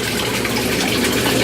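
An aquaponics drip system runs water in a steady, loud, continuous gushing flow close to the microphone, with no pauses or voices.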